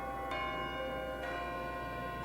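A church bell tolls, two slow strikes with a long ringing decay, faint and distant over a steady background hum.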